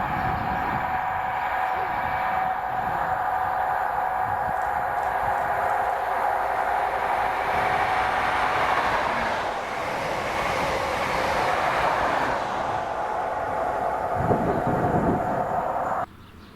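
A ScotRail passenger train led by locomotives 43150 and 43147 passes at Monifeith, a sustained engine drone with rolling wheel noise and rattle that stays steady and fairly loud, then stops suddenly at the end.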